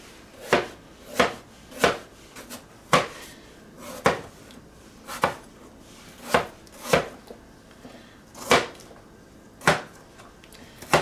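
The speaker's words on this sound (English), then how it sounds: "I think because I'm chopping them up kind of finely, I don't think I need all of them." Apples being finely chopped with a knife on a cutting board for cinnamon rolls with apple crumble, about fifteen crisp, evenly spaced chops ringing out close and clear with no talking.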